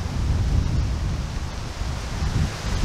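Wind gusts across a golf course at Willow Valley Golf Club, a loud, steady low rumble buffeting the microphone with no talk.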